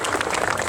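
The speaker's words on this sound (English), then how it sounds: "let's have a nice round of applause for the Marines here." A crowd at a military vehicle event at a tank farm in Nokesville claps for Marines, a brief burst of steady mid-distance applause.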